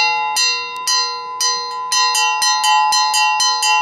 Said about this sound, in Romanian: No, ăsta e clopotul.